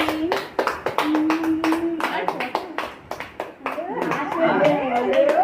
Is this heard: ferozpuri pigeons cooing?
no